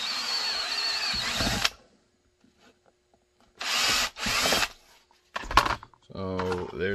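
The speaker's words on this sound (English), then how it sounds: "drill" Several bursts of a power drill whirring through a carbon fiber paddle holster, each a few seconds long with quiet gaps, followed by a person talking.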